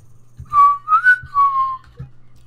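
Someone whistles a short wavering melody of a few sustained notes, loud and close, with some light background knocks underneath.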